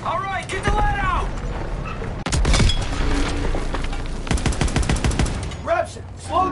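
Heavy gunfire in a World War II battle in Call of Duty WW2: loud, rapid bursts of rifle and machine-gun fire crackle nearly without pause, with voices calling out over the shooting.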